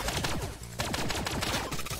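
Rapid pistol fire from the top-down shooter Relic Hunters Zero crackles in a dense, continuous string of loud shots, with a brief lull partway through before the shooting resumes.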